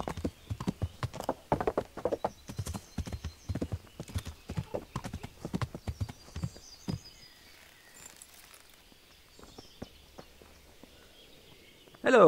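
Horse hooves clip-clop in a steady walking rhythm, close and clear, in the medieval game Kingdom Come: Deliverance, then fade into quieter ambience with faint birds before a brief loud burst at the end.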